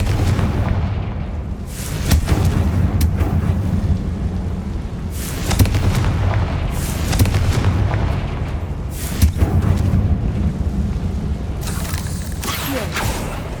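A Confringo fire-spell blast in the Hogwarts Legacy video game, set in a tomb, comes across as heavy rumbling booms and crackling impacts over a dense, continuous low roar, loud and sustained with repeated louder bursts.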